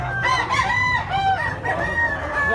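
A young yellow-legged rooster crows nearby, several overlapping rising and falling calls filling a few seconds, loud and close, with faint clucking from other fowl in the background.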